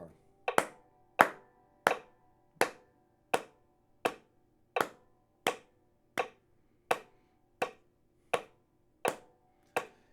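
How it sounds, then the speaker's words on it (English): One person claps single hand claps in a steady, even beat, about fourteen sharp claps spaced evenly, close and clear against a quiet room. "I'm going to clap"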